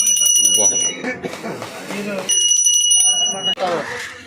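Brass bell rings in a shop selling brass, bronze and copper utensils, its sustained metallic tones ringing out twice over people talking close by.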